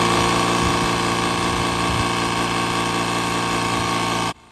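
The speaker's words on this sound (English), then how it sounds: "Now we're gonna try out the tire pump." A DeWALT jump starter's built-in tire pump runs close up with a steady, loud mechanical hum and buzzing compressor drone, cutting off abruptly just before the end, with no voices.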